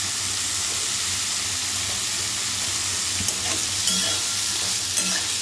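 Boiled drumstick flowers fry with potato in a pan, a steady, close, fairly loud sizzle running throughout, with occasional faint scrapes of stirring and no voices.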